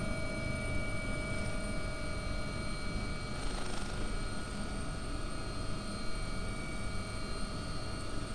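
AW-139 helicopter in X-Plane 11, a steady loud drone of rotor and turbine engine with constant whining tones, continuous throughout with no talk.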